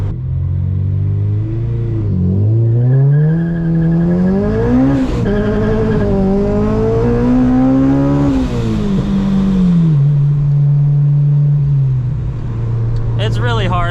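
A supercharged Acura RSX of about 350 wheel horsepower accelerates from 0 to 60 mph with wheelspin. The engine climbs loudly through rising revs and shifts for about ten seconds, then settles into a steady drone, heard from up close.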